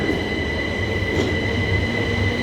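A train at West Croydon station gives a steady, loud rumble with a sustained high wheel squeal running throughout, heard up close with no voices.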